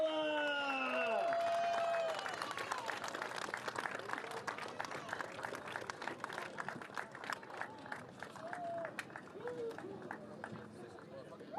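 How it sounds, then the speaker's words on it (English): Applause and crowd noise for the Squadra Corsa Ferrari 488 GT3 drivers after their race win at Virginia in the 2019 Blancpain GT World Challenge America. Broad, steady clapping continues for several seconds at a moderate distance while an announcer talks over it. "Let's give these guys a big round of applause"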